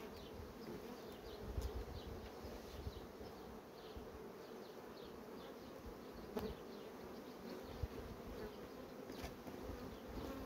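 Honeybees buzz at an open hive while a beekeeper forms artificial swarms from a colony in swarming fever: a soft, even hum of many insects throughout, with a few individual bees flying close past.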